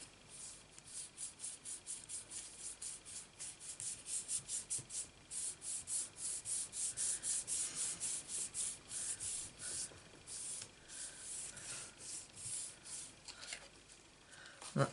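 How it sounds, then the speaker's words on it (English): Paper card being rubbed by hand over a stamped surface in a craft session, soft rhythmic scratchy strokes repeating steadily, faint and close, with no talking. "I am just going to sit that on top and rub it all over"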